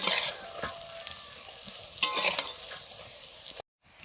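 Prawn fritters bubble and sizzle steadily in hot oil, a loud continuous frying hiss with occasional sharper pops, breaking off abruptly near the end.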